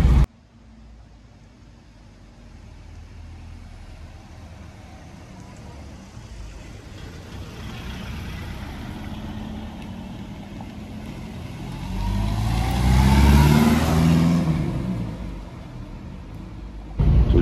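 A 1970s Bedford HA van, about fifty years old, pulls away in first gear through a small village. A steady engine drone runs from inside the cab and swells to a louder, strained rev near the end.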